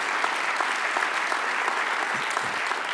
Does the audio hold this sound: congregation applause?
yes